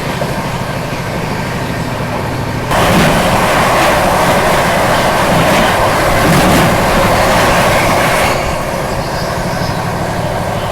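The Jammu Tawi–Tatanagar Express runs close by on the Delhi–Kanpur section, a loud steady rumble that swells into a denser rushing roar as it passes, then eases back.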